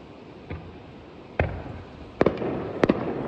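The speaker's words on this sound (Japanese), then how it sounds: "外を見に来たら花火が上がってます" Winter night fireworks burst outside at a hot-spring inn in Gero, Japan, in several sharp, distant bangs, a few isolated and then two quick pairs, with no talking.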